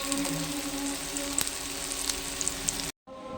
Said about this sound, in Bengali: এইভাবে একটা নিরামিষ কুমড়ো ভাজা করলাম আজকে আগে একবার ভেজে নিয়েছি